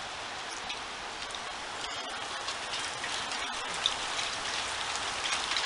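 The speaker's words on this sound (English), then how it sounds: "It's hailing." Spring hail patters steadily on surfaces outdoors in a garden, a dense continuous hiss of many small impacts with occasional sharper ticks, moderately loud and with no voices.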